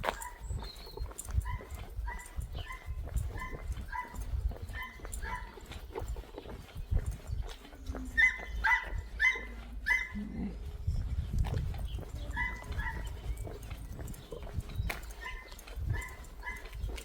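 Dog kept on a very short chain in a muddy village yard barks in repeated bursts, some nearby and sharp, others fainter, over outdoor walking noise and low rustling.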